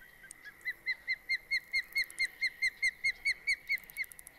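A bird in the Fishing Planet fishing game calls in a quick, even series of about fifteen whistled notes, clear and fairly close over a quiet background with no talk.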